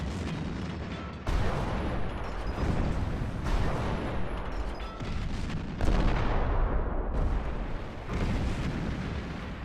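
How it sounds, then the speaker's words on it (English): World War I artillery bombardment at Verdun in February 1916, opening Operation Gericht: dense, continuous rumbling booms and blasts layered over one another, loud and sustained with no pauses and no voices. "1 million shells have pummeled the French positions."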